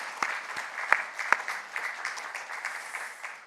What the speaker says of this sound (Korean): 오늘 우리 청빙위원들에게 진심으로 감사의 박수 한번 하겠습니다.